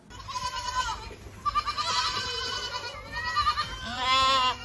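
Several drawn-out bleats from sheep on a farm, loud and close, coming one after another with short gaps between them.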